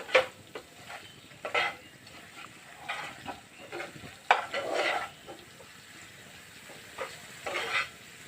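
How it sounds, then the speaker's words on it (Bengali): Spice paste fries in a pan with a soft sizzle while a utensil scrapes and stirs in intermittent strokes, fairly quiet and close, with no talking. "মশলাটি আমার ভাজা হয়ে গেছে"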